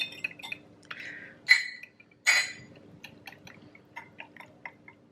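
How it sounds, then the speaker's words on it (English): A whisk works an ingredient into a Fab 4 freezer fudge mixture in a bowl, giving close, intermittent light clinks and scrapes with two sharper bursts midway. No one speaks. "I'm gonna use a whisk and I'm gonna whisk it in"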